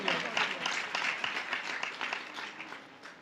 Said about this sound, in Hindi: ऐसे खुदा के लिए जोरदार तालियां बजा देंगे हम।